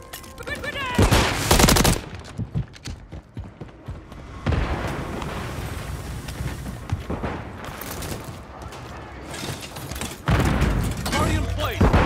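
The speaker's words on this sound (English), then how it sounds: "Throwing flash grenade!" A flash grenade and gunfire in Call of Duty MW3, loud bursts of rapid shots and booming blasts in separate waves with quieter gaps between, mixed with brief shouted voices.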